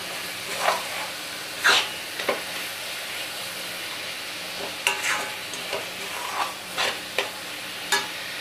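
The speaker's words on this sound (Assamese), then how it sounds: "নাৰিকলখিনি মোৰ ভাজা হৈ গৈছে, এয়া চাওক।" Grated coconut and jaggery frying in a pan for til pitha, a steady soft sizzle with intermittent scraping stirs throughout, close and moderate in level, no talk.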